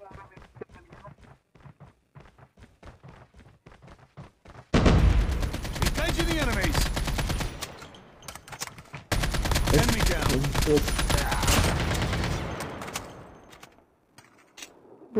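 Call of Duty Mobile gunfire erupts in long, loud automatic bursts with dense rapid shots after quieter footsteps and movement, broken by a short pause partway through, while a player talks briefly over the action.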